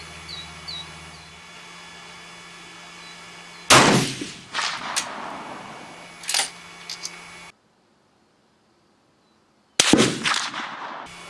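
Rifle shots from handloaded 7.5x55 Swiss cartridges at a shooting range: a few sharp, loud cracks separated by several seconds, each trailing into a brief rumble, with a short stretch of silence between the last two.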